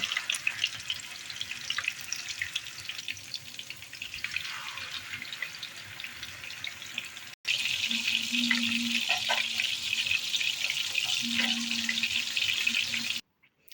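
Chicken köfte meatballs frying in a pan, a steady broadband sizzle that runs throughout, growing louder and denser in the second half, with faint clinks, sink water and short tonal hums in the background.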